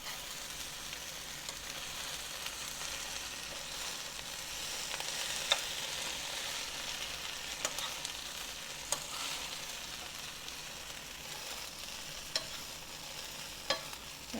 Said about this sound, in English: So I'm going to put that in my little skillet on the back burner and let that start frying.